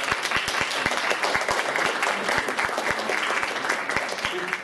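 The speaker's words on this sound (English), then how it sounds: "Can also give her a round of applause." Applause for a classmate in a university lecture on ideation and wireframing, steady clapping from a room of students across the whole stretch with sharp individual claps standing out near the front.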